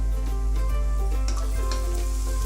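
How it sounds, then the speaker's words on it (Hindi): Garlic and ginger sizzle and crackle steadily in hot oil in a pan, a loud, continuous frying hiss with no talking. "गार्लिक और जिंजर को हमने अच्छे तरीके से ब्राउन करना है।"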